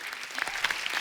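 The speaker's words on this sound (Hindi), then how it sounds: "एक बार जोरदार तालियां हो जाए" A burst of clapping from a group of people, steady and enthusiastic, with no talking over it.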